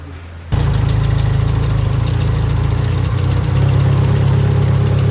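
Tata CNG truck engine cranks over and catches, then settles into a loud, close, steady rumbling idle with a slight knocking pulse; the truck has a faulty ECU.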